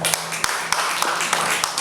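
Children at a school Christmas worship service clap together in a brief, scattered round of applause, with sharp individual claps standing out over a soft room background.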